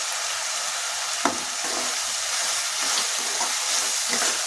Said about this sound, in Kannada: ಇದೊಂದು ಸ್ವಲ್ಪ ಫ್ರೈ ಆಗಬೇಕು.